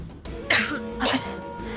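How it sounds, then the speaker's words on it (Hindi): A woman gives two sharp, close coughs about half a second apart, each a harsh burst with a throaty edge, over quiet room tone. "तुम इतना क्यों खांस रही हो"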